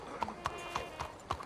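A horse's hooves clip-clop at a steady walking pace in Red Dead Redemption 2, five distinct close strikes over a quiet background.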